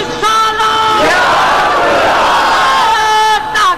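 A large crowd at a religious naat gathering loudly roars a chanted slogan in unison, a sustained massed shout lasting a few seconds with a brief second burst at the end.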